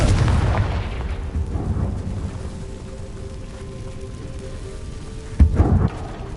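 A Confringo spell bursts against rocks in the video game Hogwarts Legacy with a deep, rumbling explosion. The boom fades into a low hum, and then a second, shorter blast hits near the end.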